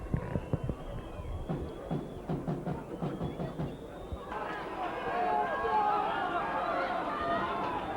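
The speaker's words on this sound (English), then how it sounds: "Crowd trying to lift them." A rugby league crowd at Workington against Sheffield chatters and claps near the start. The noise then swells into a broad, sustained roar of cheering from the stands.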